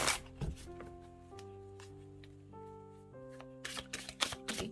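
Osho Zen tarot cards being shuffled, with crisp riffling bursts at the start and again near the end over soft sustained background music.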